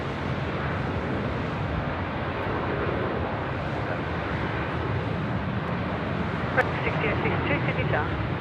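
A plane takes off from runway 16 right at Sydney Airport in wet weather, its engines a steady, broad roar throughout with no clear rise or fade.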